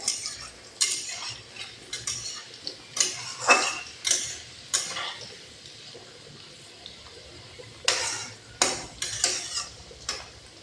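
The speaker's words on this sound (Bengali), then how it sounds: "সেই দিন মতন আলু ভাজা ভাজা হয়ে গেছে" A spatula scrapes and stirs potatoes frying in oil with cumin, dried red chilli and bay leaf in a pan, making repeated close clattering strokes in irregular bursts with quieter gaps between, and no one talking.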